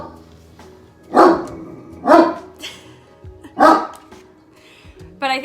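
A pet dog barks three times in close, loud, spaced woofs over a quiet indoor hum, followed by a short higher yip at the end.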